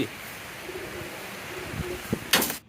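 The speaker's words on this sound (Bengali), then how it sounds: "এই কবুতরগুলোকে আমি ঢোকাই ফেলতেছি" Pigeons cooing at low volume under steady background noise, with a few soft coos, a brief knock and a rustling burst near the end.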